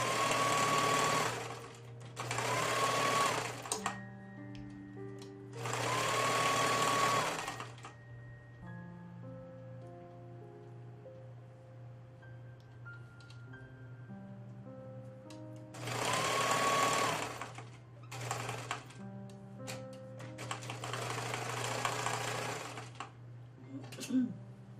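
A sewing machine stitches fabric for a drain bag pillow in several loud rapid whirring bursts of a few seconds each, separated by pauses where someone talks quietly over a low hum.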